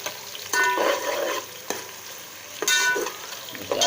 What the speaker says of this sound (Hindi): प्याज ब्राउन हो गई हमारी